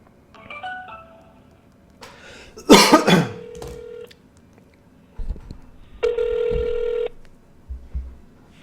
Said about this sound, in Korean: 지금 전화 한번 걸어 보겠습니다.